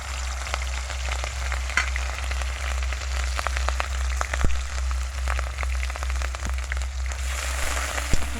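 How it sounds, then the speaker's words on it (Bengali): Onions fry in hot oil in a pan for a home-style Bengali fish curry (machher jhol). A steady, close crackling sizzle runs throughout, with scattered sharper pops and spits and no talking. "পেঁয়াজটাকে ভালো করে ভেজে নেব যতক্ষণ না লাল হচ্ছে।"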